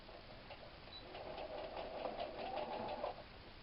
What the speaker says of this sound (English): put it straight all the way down and sew.